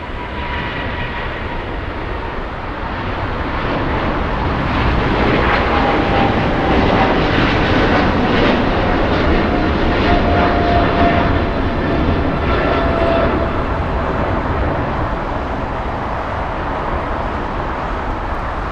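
A British airliner takes off at Los Angeles International Airport, its engine roar building after a couple of seconds into a loud, sustained, steady rumble and whine that holds for the rest of the stretch, with no talk over it.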